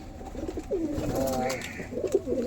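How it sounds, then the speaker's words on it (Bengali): Pigeons just released outdoors coo in soft, rolling, repeated calls, close by, with a faint flutter and rustle between the calls. "এই যে সব পায়রাদের আজকে আমি ছেড়েছি, তো পায়রাগুলো দেখে নাও।"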